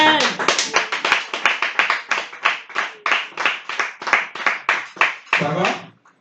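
A church congregation claps in a fast, steady rhythm to acclaim Jesus, loud and close, with many hands striking together and voices joining in over the clapping.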